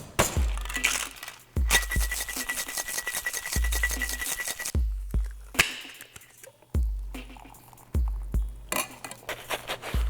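Rum cocktail of navy-strength and overproof rum shaken in a cocktail shaker for a tiki drink, giving several bursts of rattling, clinking ice and metal separated by short pauses, close and loud with no talk.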